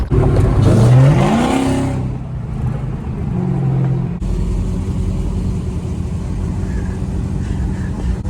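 A Dodge SRT8 engine roars as the car pulls away from a green light, revving loudly and rising in pitch for about two seconds, then settling into a lower, steady drone as it moves off.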